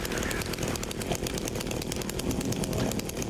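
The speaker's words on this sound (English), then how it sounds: "It's the Silent Hill chainsaw." A chainsaw weapon in the Silent Hill 2 Remake game runs with a loud, continuous buzzing engine drone that holds steady for the whole few seconds.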